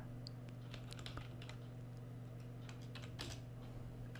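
Faint, irregular clicks of typing on a computer keyboard while code is entered in the Excel VBA editor, scattered across a few seconds over a loud steady electrical hum.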